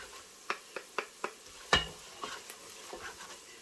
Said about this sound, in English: So I'm going to start putting in my 6 tablespoons of flour and stirring as I go.